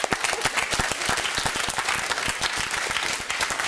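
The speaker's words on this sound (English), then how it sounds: "That was for you, that round of applause." A studio audience at a televised live debate breaks into dense, sustained applause, many hands clapping at once in a continuous, even roar that lasts throughout.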